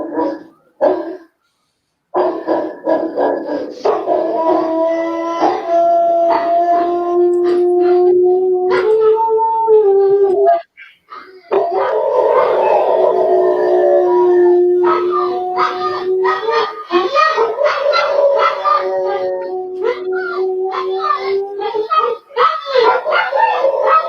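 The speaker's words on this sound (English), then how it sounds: "These are his dogs barking, but in a minute someone howls and it's not his dogs" Several dogs bark and howl nearby, dense overlapping barks giving way to long wavering howls that rise and fall, loud and continuous for most of the stretch with only brief pauses.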